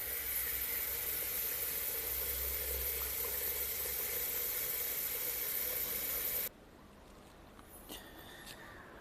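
Quail being washed in water, a dense continuous rush and hiss of running water that cuts off abruptly, followed by quieter faint splashes and handling sounds.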